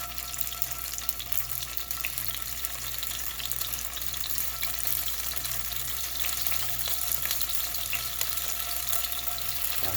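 Tofu frying in hot grease in a pan over low heat, giving a steady, continuous crackling sizzle that holds an even level from start to finish, with no voices over it.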